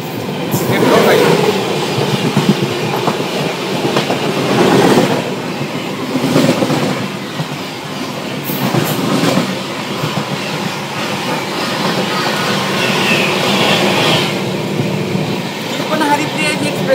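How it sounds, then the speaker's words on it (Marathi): The Haripriya Express train rumbles past close by, a steady loud roar of wheels and carriages lasting throughout, with faint voices underneath. "इथून पुढे एक ट्रेन यायला लागली बघा"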